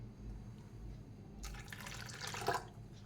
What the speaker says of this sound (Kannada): ಸ್ವಲ್ಪ ನೀರು ಹಾಕಿಬಿಟ್ಟು ತೆಳ್ಳಗೆ ಮಾಡ್ಕೊಳ್ಳೋಣ